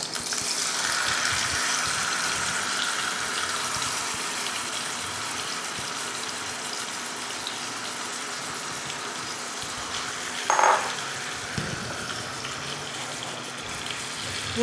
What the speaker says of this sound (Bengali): তেলটা গরম হয়ে গেছে, ওটা চিকেনটাকে দিয়ে দেবো